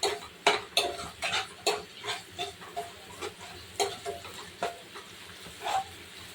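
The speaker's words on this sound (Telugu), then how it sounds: "ఇది కొంచెం అల్లం వెల్లుల్లి పేస్ట్ చికెన్లో వేసుకుంటాం కదా, ఇది పచ్చివాసన పోయేదాకా వేయించుకుందాం." Chicken frying in a pan with ginger garlic paste for a chicken curry, a faint sizzle under repeated stirring clinks and scrapes coming in an irregular rhythm, close by with no talking.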